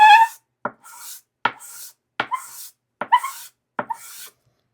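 Briar pipe bowl being topped during a restoration, giving a series of six loud, harsh grinding bursts, each lasting about half a second with short gaps between, close up and without talk.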